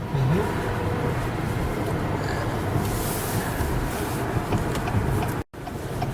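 A 2021 Acura TLX's four-cylinder engine drones steadily from inside the cabin while driving, blended with dense road and wind rumble at a constant level, with one brief dropout near the end.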